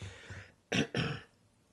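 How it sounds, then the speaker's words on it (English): Two short, rough throat-clearing bursts in quick succession, close to the microphone, with quiet breathy sounds before them. "I might be clearing my throat a couple of times"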